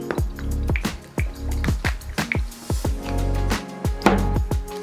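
Soy sauce and harissa being mixed into a vegan burger mixture, heard as a run of wet, squishy, dripping smacks repeating in a quick irregular rhythm, close and fairly loud with no talking.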